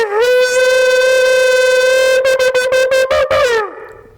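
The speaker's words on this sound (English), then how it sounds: "the trumpets that are talked about in Joshua were like these, a shofar." A shofar, a hollowed ram's horn trumpet, is blown in one long, loud, steady note that ends in a run of rapid stuttering blasts before falling off, with no talk over it.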